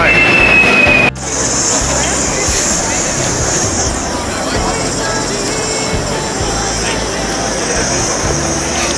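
An old train rumbles steadily past nearby at Vivid Sydney, with a continuous grinding roar and a faint high metallic squeal of wheels, and some crowd babble underneath.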